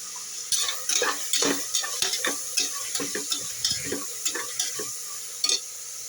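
Green chillies fry in a pan with a steady close sizzle, broken by repeated scraping stirs at an uneven rhythm and no voices.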